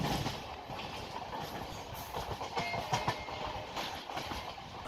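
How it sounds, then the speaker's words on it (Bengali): A late-night local train on the Howrah–Bardhaman line races at speed, a steady rushing rumble inside the carriage with rhythmic clattering of wheels over rail joints and no voices. "দুরন্ত গতিতে আমাদের ট্রেন ছুটে চলেছে তার ডেস্টিনেশনের দিকে"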